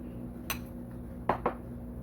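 A rubberized whisk scrapes egg from mixing bowls while baking banana blueberry muffins, giving three short clinking knocks against the bowl over a quiet kitchen hum.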